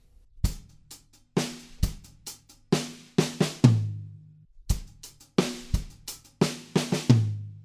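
A short drum-kit fill played twice: quick snare and tom hits tumbling into a ringing low tom or kick, with a pause between the two passes.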